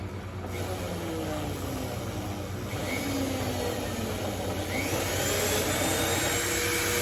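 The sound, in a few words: oval carbide burr enlarging a shofar horn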